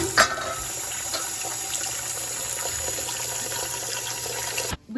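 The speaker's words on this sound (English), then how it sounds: "We're going to fill our stock pot." Tap water pours steadily into a stock pot in a kitchen, a continuous close rushing splash lasting several seconds before cutting off abruptly.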